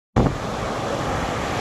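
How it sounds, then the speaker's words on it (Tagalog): Ocean waves wash in at Seminyak Beach, Bali, a loud, steady surf roar that begins abruptly and continues without a break, with some wind buffeting the microphone. "Ang ganda ng tunog ng waves."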